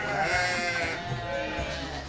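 A Saanen buck goat bleats in a breeding-buck pen with drawn-out, wavering calls, loud and close, against a steady background of farm noise.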